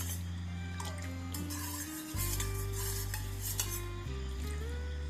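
A spoon stirs a caramel custard pudding mixture of milk and sugar in a bowl, making a steady, close scraping and swishing that runs throughout under a continuous tonal background.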